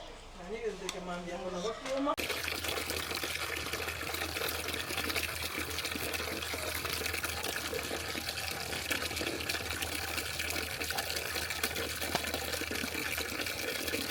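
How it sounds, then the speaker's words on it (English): Water rushing into a basin for washing dishes in a Kenyan home kitchen, a steady, broad gushing fill that runs on without a break after a brief moment of voice at the start. "That is water for washing the dishes."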